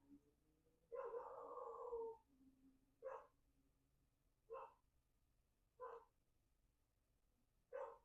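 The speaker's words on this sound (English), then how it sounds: "Sorry about my dog barking if you can hear him." A dog barks five times in slow, evenly spaced bursts, starting with one long drawn-out howl-like bark, then four short single barks, moderately near, in a quiet indoor room.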